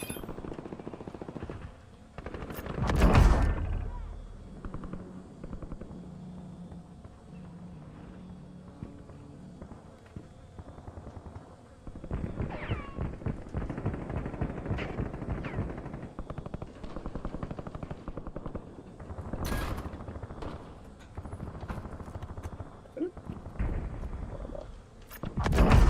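Light machine gun fire in a battle royale video game crackles in bursts, with a loud volley early on, then scattered shots and rattling sequences with game ambience between them.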